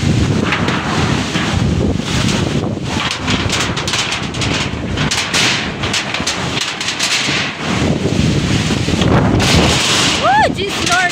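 Strong gusty wind roars through a rainstorm around a house, a loud continuous buffeting rush that swells and dips across the whole stretch, with a brief high whistle near the end.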